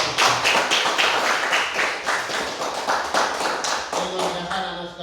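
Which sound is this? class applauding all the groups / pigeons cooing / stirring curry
class applauding all the groups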